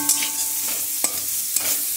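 Chopped onion fries in a pan with a steady close sizzle, broken by a few sharp clicks of a spatula stirring against the metal, with no talking.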